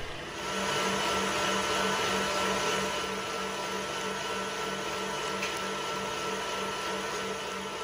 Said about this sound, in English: The next day, beat until getting a creamy consistency.